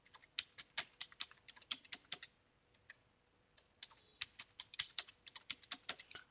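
Someone types a password on a computer keyboard, with quick, uneven bursts of crisp key clicks in two clusters separated by a short pause, close and fairly quiet.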